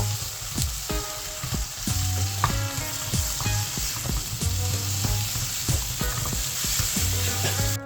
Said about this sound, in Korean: 만들어 놓은 양념장 모두 넣고 썰어 놓은 양파 넣고 대파 한 줌 넣고 다시 볶아주세요